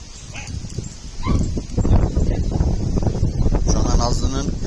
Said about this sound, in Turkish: yavruları da Cihan abiye havlıyorlar